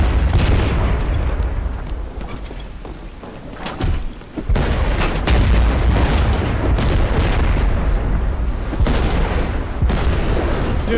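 Ship cannons firing in the Blazing Sails pirate game, a loud, dense run of booming blasts and rumbling explosions that keep going almost without a break, dipping briefly before building again.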